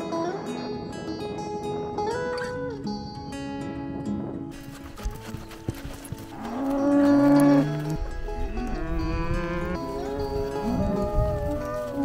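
Cattle moo loudly and repeatedly during a cattle drive on horseback in Namibia. Several long, drawn-out calls come from the animals at middle distance, with hooves and other herd noise underneath.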